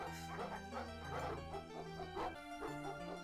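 Dog barking in the Hover Bovver video game, quick repeated yips over busy melodic game music, the barks somewhat buried in the tune.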